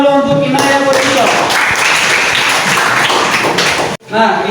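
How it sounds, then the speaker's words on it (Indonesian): Children in a classroom clap their hands together, a dense burst of rapid claps filling most of the moment before cutting off abruptly, with voices around it. "tepuk tangan dulu untuk Inaya Kodisho."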